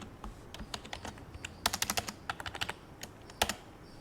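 Rapid keystrokes on a computer keyboard while entering Java code, a steady patter of clicks that bunches into quick dense bursts, close and fairly quiet, with no talking.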